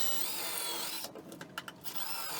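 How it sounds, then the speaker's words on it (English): A power drill bores pilot holes into sheet metal for a heat vent cover, whining steadily, then giving a few short stuttering bursts as the bit bites in. "First I'm going to drill these pilot holes."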